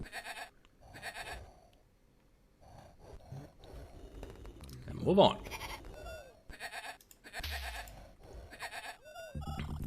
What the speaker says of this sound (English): Kill one sheep for food.